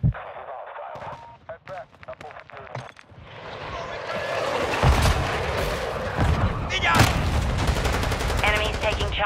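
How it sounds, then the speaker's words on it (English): Air strike blasts and gunfire in a Call of Duty Modern Warfare II ground war match, scattered shots and radio chatter giving way to a dense, sustained roar of explosions and rapid fire. "Enemy SAE strike incoming."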